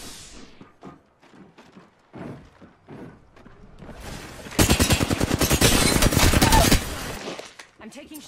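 Weapons fire in the Apex Legends battle royale shooter: a loud, rapid automatic burst runs for about two seconds, after scattered thumps and brief talk.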